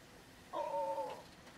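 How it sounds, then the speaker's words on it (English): A cat meows in a single drawn-out cry lasting about half a second, clear and fairly close, likely calling down through a bathroom vent from a roof, with quiet room background before and after. "Who's meowing now?"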